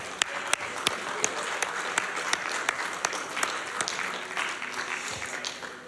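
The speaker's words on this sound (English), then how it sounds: "Give yourselves a round of applause." A crowd applauds steadily for several seconds, dense clapping with a few sharp, louder claps standing out, and some faint voices mixed in.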